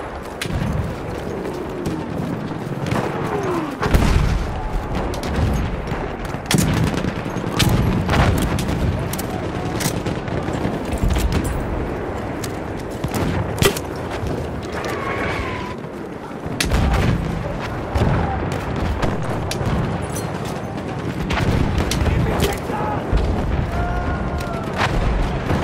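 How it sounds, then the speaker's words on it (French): Dense, overlapping battle gunfire in a World War I shooter game, with bursts and booming explosions cracking close and far in a continuous loud barrage and no clear voices. "Une de leurs mitrailleuses."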